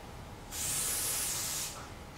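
Spray gun applying paint to a 1956 Chevy in an open, drafty makeshift booth, a steady loud hiss that starts abruptly, holds for just over a second, then cuts off.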